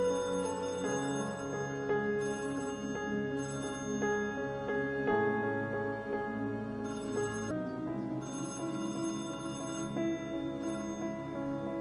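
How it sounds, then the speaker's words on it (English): A telephone bell rings steadily for about twelve seconds in a one-shot scene, its tones sustained over a dense musical bed with no speech. "Sounds like the phone's over here."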